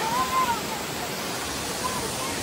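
Water rushes down Savatkada waterfall at Chunakolvan, Rajapur, in the Konkan, a steady, broad hiss and roar without pause that sounds fairly close and fills the whole moment.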